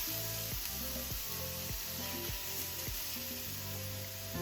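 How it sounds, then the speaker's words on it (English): Beef sears in a wok over medium-high to high heat, a steady close sizzle broken by rhythmic scraping strokes roughly every half second as the meat is stirred. "So I've got my beef in there, and really just a couple minutes. You just want to sear it."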